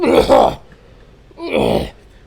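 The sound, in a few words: imitated cough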